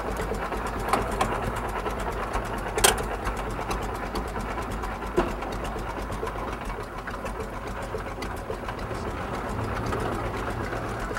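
A vintage tractor's long-stroke engine runs at a steady, loud, close chugging pace, with a few faint knocks and clicks on top and no talk.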